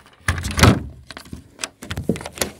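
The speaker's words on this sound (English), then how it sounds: "let me close this door" A homemade wooden chicken coop door is swung shut and latched up close, with creaking, knocking and rattling handling noises in a few uneven bursts.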